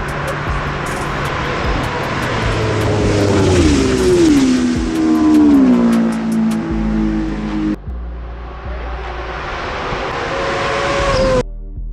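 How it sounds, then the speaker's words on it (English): Loud sport motorcycles revving hard, their pitch rising and falling as they roar past close by, with a dense, continuous noisy roar. "These bikes are loud."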